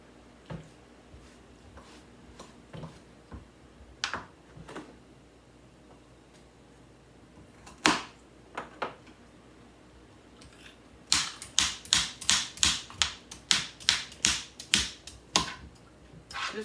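Carrots are peeled by hand in a home kitchen, with sparse scrapes at first, then a run of sharp, rhythmic peeler strokes close up and fairly loud, without talk.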